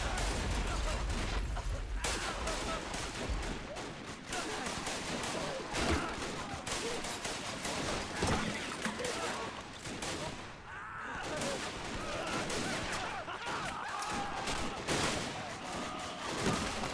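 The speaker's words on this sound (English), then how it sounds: "Overwhelming German firepower is going to bring the last French defenders down there on that right side" Dense rifle and machine-gun fire rattles on without pause through a WW1 winter battle video game, mixing sharp cracks with rolling bursts, while a voice talks over the din.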